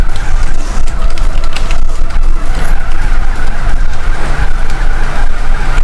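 A car drifting in GTA San Andreas on the Monument Hill drift course, tires skidding and squealing continuously under a loud engine roar, close and sustained with no talk.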